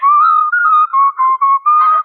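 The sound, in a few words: person whistling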